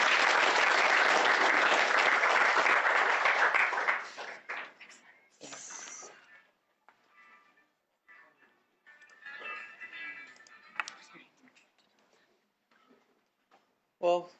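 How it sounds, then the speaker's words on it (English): Audience applause for a panelist at a labor symposium, a dense burst of clapping for about four seconds that fades into scattered claps, quiet room noise and a brief sound at the end. "Let's give him a round of applause"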